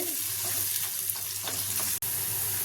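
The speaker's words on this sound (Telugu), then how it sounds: "సన్నగా కట్ చేసి పెట్టుకున్న ఉల్లిపాయలు మంచిగా ఫ్రై అవ్వాలి" Chopped onions with mustard and cumin seeds fry in oil for a mirchi ka salan, giving a steady, close sizzle with light stirring clicks and one brief dropout near the end.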